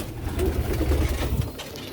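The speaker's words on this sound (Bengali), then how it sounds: "এখানে একটি কবুতর হয়ে ডিম পারছে" Soft, low pigeon cooing inside a coop where a pigeon is laying eggs, a steady murmur of close coos running through the whole stretch with no talking.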